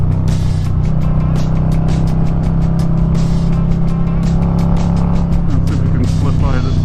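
A 2022 Harley-Davidson Low Rider S on touring-style tires hums along at steady cruising speed, engine drone and wind rush constant and loud, with a rider's voice talking over it.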